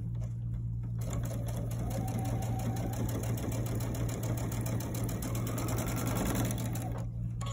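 A sewing machine runs steadily through the whole stretch, stitching quilt pieces together, a continuous close mechanical whir with a low hum beneath it and no talk over it.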